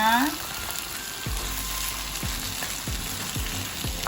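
Bay leaves and spices sautéing in oil for East Javanese beef rawon, a steady close sizzle with periodic scraping stirs of a utensil against the pan.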